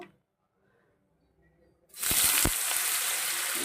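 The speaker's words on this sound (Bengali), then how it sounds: "তো কড়াইতে তেল বসিয়ে দেয়া হয়েছে" Oil in a wok (kadai) bursts into a loud, close hiss after a near-silent start, with a few sharp utensil knocks as the sizzle takes hold and continues steadily.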